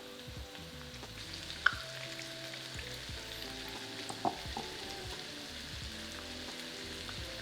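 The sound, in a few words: beef pieces frying in the pan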